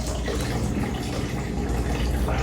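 Brewing liquid drained off the grain in a PicoBrew 5-gallon manual brew pours in a steady, close, continuous splashing stream with no break and no talking.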